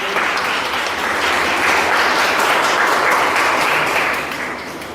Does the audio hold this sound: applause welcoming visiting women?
yes